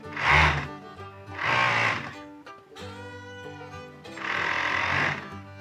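A sewing machine stitches the sleeve seam of a baseball shirt, with three humming bursts of stitching separated by short pauses, close and fairly loud, with no talking.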